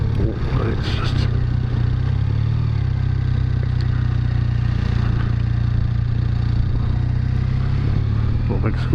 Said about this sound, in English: big squad of bikes coming down towards us